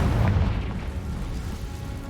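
A Confringo fire-blast spell explodes in the Hogwarts Legacy video game, a deep booming burst at the start that rumbles and fades over a couple of seconds.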